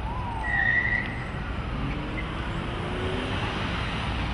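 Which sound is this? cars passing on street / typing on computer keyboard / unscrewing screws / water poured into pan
cars passing on street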